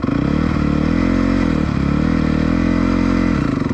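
Honda CRF motorcycle idling and pulling away in first gear as the clutch is let out with some throttle, a loud, close, steady engine drone with brief jerks in the note.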